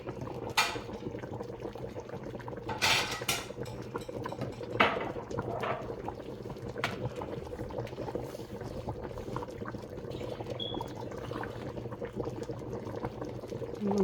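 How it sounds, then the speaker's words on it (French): A pot of fish boils steadily, giving a quiet, continuous bubbling and simmering with occasional louder pops and splashes, close by and low in level. "notre poisson est en train de bouillir"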